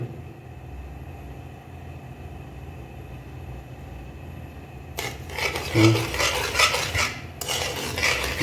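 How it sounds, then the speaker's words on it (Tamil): Sugar being stirred as it melts in a pan while making sohan chocolate, with metallic scraping and clinking of a spoon against the pan starting midway, fairly close and alone over a low background hum. "சர்க்கரை எடுத்து மெல்ட் பண்ணணும்"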